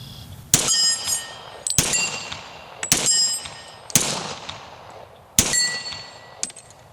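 .40 S&W pistol shots fired at steel target stands, five sharp loud reports spaced about a second apart, each followed by a ringing metallic clang that decays, with no talking.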